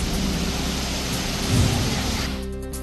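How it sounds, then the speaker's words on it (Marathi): A thunderstorm with rain in Sindhudurg brings a loud steady hiss of heavy rainfall with a deep rumble of thunder swelling midway, then the sound cuts off abruptly. "सिंधुदुर्गात मेघगर्जनेसह पावसाची हजेरी."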